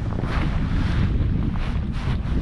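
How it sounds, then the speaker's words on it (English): Strong wind howling across a bay on an autumn fly-fishing trip for trout, a continuous loud roar with heavy low buffeting of the microphone and no voices. "It is hard work casting into this wind. It's absolutely howling into this bay"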